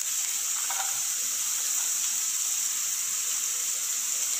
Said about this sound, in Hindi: जब आपको अनियन हो जाए थोड़ा सा उसमें गार्लिक डालेंगे।